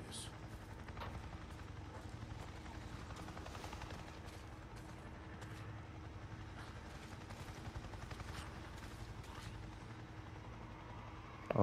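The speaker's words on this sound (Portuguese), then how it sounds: "Agora aí o helicóptero aparece." A helicopter's steady low rotor drone approaches in the video game Days Gone, with scattered gunfire-like cracks and game sounds layered over a continuous rumble.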